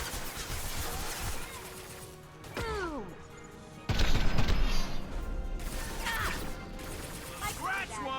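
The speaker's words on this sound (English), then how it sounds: "Man, that flashbang is instant." A flashbang ability goes off in the Mass Effect 2 game amid a firefight, with a sudden loud bang near the middle, clattering impacts and whooshing effects around it, and a player talking over the action.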